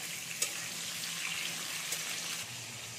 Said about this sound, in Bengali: আর এইটা ঢাকাও দেবেন না, এরকম করে নাড়তে থাকতে হবে।